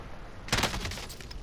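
A quick burst of rapid automatic gunfire in Call of Duty: Modern Warfare breaks a quiet moment, sharp at first and then a fast rattling string of shots at moderate distance.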